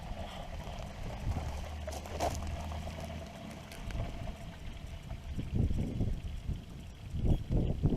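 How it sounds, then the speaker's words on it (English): RV black water tank draining from a trailer through a sewer hose, a low gurgling, sloshing rush of liquid that grows louder and burblier in the later seconds, heard alone at close range. "And there goes some black water."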